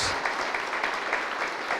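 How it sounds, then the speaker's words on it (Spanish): Church congregation applauding the Lord during a Spanish-language Sunday service, a steady wash of many hands clapping together at even volume, with no voices over it. "¿le podemos dar un aplauso al Señor?"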